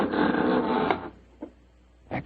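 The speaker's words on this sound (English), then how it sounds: "There goes the front door." A front-door sound effect from an old-time Sherlock Holmes radio drama: a loud rattling mechanical noise lasting about a second, then a soft knock and a sharper latch click at the end, with no voices.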